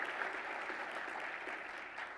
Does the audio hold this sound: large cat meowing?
no